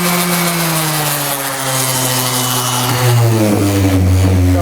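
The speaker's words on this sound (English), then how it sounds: "I'm really just sanding a lot of the Bondo away" Power sander smoothing Bondo body filler on a Rock-Ola Jump Bug arcade cabinet during restoration, a steady loud whirring drone with a tone that sags and then rises, running alone throughout.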